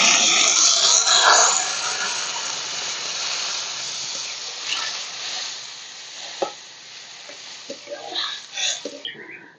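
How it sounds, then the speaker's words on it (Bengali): Water poured onto fried ginger-paste masala with cumin powder in a pan hisses and sizzles loudly at first, then settles into a gentler bubbling with occasional stirring clinks and scrapes. "এবার দিয়ে দেবো জল।"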